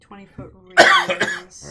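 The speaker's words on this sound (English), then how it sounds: "That's a cough" A single sharp cough bursts out amid a casual tabletop role-playing game session, loud and close, with people talking around it.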